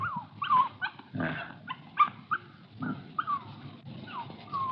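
A puppy whimpers and yips in high, thin cries, repeated in short bursts close by with little background noise.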